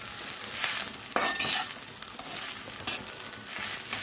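Gongura pickle mixture made with Guntur gongura leaves and Guntur chili is stir-fried slowly in a pan, a steady hissing sizzle broken by a few louder scrapes of stirring, with no voices.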